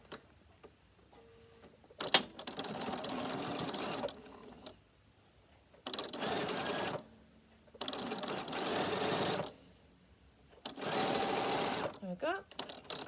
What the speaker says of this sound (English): Bring the binding over, covering those stitches and top stitch in place.